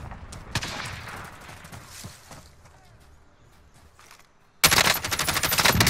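Rapid automatic gunfire in the Warzone battle royale game, dense bursts of shots rattling through the first half, then a loud, sustained close-range volley erupting near the end.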